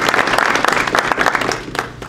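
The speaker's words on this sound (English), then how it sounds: "if we could give some of our speakers here a round of applause." Audience at a graduation ceremony breaks into steady, dense applause, many hands clapping close together in a continuous wash for the full stretch.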